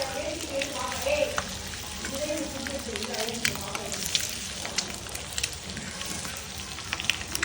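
An egg fries in a pan during biryani cooking, a soft, continuous sizzle and crackle with faint clinks, while people talk nearby.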